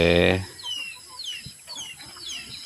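A chicken gives a short, loud cluck at the start, followed by thin, faint chirps from small birds in the background.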